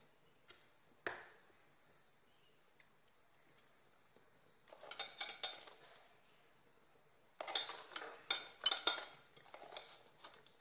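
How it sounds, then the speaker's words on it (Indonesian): A knife slices a fried egg on a plate, with soft clinks and scraping taps in two short bursts, close and quiet, with no talking. "Telurnya mau saya iris-iris, guys"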